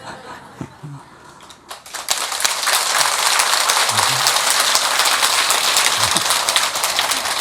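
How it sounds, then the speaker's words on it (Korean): Audience applause breaks out at a Buddhist dharma talk by a monk in a temple hall, starting sparse and soft, then swelling after about two seconds into dense, steady clapping from a large crowd that carries on to the end. "공연히 헛박수 치면 안 돼요."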